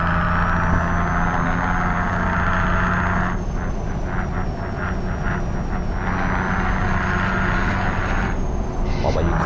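Scania truck in Euro Truck Simulator 2 with a short exhaust, droning steadily at a constant loud level, with brief rattling pulses from the engine partway through.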